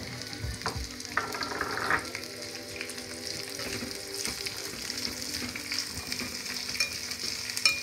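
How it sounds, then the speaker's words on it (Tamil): Chopped onions fry in a pan for a spicy sambal, a steady close sizzle with occasional stirring scrapes and knocks of a spoon, moderately loud and free of speech. "கொஞ்சம் பொரிபாடட்டும் சேர்த்து வெட்டி வச்ச வெங்காயத்தையும் போடுறேன்."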